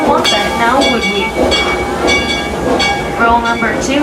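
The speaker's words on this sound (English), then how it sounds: "This is a really real old school locomotive." An old-school locomotive rolls along the rails of the SFOTRR railroad, its loud, steady rumble carrying repeated tonal whistle-like bursts throughout, close by and continuous.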